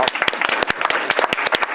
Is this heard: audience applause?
yes